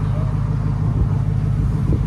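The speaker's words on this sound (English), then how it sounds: "That's how a BMW should sound." A BMW V8 engine idles close by with a steady, deep low rumble, loud and continuous throughout with no breaks.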